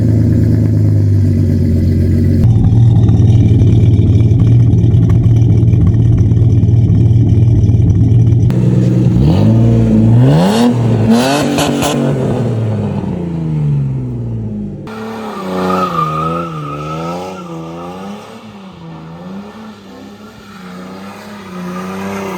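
Ford Falcon EL XR6 engine idling with a steady low rumble, then blipped and revved in rising and falling sweeps before settling into a wavering, loping idle, loud and close with no talk.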